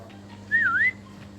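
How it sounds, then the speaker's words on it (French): A single loud whistle, a short rising and dipping tone lasting under half a second, sounds over a low background hum. "Ça siffle quand même beaucoup"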